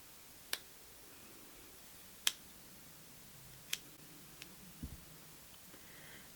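Scissors point-cutting hair with sharp, isolated snips, three distinct crisp cuts spaced a second or two apart followed by fainter small clicks, close and quiet with no talking.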